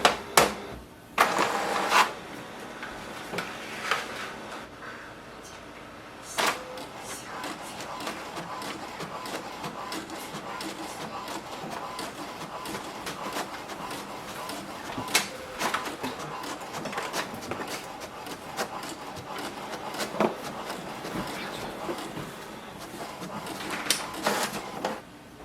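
An HP DeskJet 4355 inkjet printer makes a copy, with mechanical whirring, clicks and sharp rattling bursts of the carriage and paper feed, moderately close and quiet, interrupted by brief pauses.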